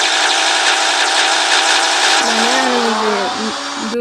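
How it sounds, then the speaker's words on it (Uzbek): A car engine holds a high, steady revving whine, then the pitch slides down and wavers as the revs drop, loud and close, with no voices. "mana mening mashinam. Juda ham zo'r mashina."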